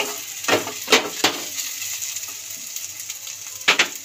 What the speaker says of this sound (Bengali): ঢাকাটা খুলে দেখুন আমার ভাজাটা হয়ে গেছে লাল লাল করে